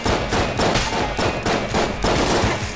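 A powered-up gun firing rapidly in Enter the Gungeon, loud rhythmic bursts of shots repeating about twice per second, with no talking.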